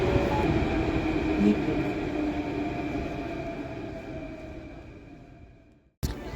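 Steady rumbling of a metro train riding along in Greece, with continuous low-frequency roar and faint whine, fading slightly before a brief drop and resumption near the end.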